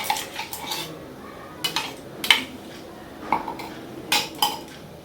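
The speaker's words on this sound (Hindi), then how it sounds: "पहले मैं इसे अच्छे से मिला लूँगी क्योंकि ये अंडा जो है इसमें नमक और मिर्ची जल्दी मिलता नहीं है" Egg being mixed with salt and chili in a bowl, heard as repeated clinking and scraping of a utensil against the bowl in irregular bursts, close and fairly clear.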